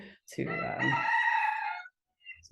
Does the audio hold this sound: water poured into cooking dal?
no